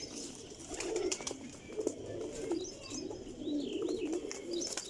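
A Lakha Bhuchal female pigeon coos in low soft rolling bursts that repeat steadily, close by, with faint chirps from other birds and background rustle, with no talk over it.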